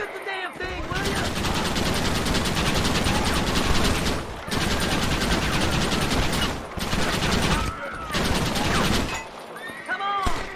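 Rapid gunfire in the Western video game Red Dead Redemption: long sustained bursts of automatic fire, loud and close, broken by a few short pauses with brief shouted voices between the volleys.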